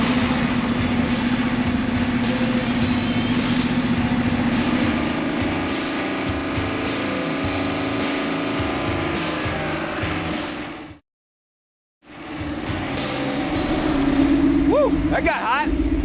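A freshly rebuilt engine fired up and running, a loud steady rumbling drone close by with a brief dropout partway through, then it resumes with a voice talking over it.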